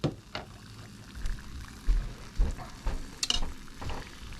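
Samoan panikeke fritters fry in oil after being turned, a steady sizzling bubble under a series of light knocks and scrapes as they are moved about in the pan.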